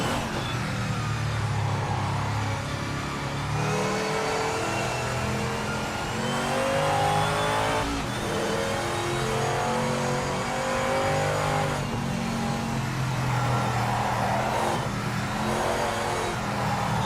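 A race car in Project Motor Racing runs a lap: steady engine drone that climbs and drops with repeated revs and gear changes for the whole stretch, loud and continuous, no talking.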